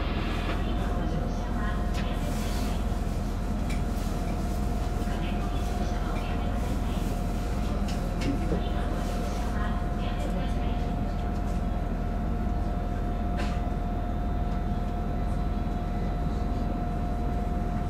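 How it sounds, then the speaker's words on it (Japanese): Inside a Senseki-Tohoku Line rapid train on the move: a steady, loud rolling rumble with a constant hum and occasional rattles and squeaks from the carriage, continuous throughout, with no talking. "この列車は仙石東北ライン快速石巻行きです。"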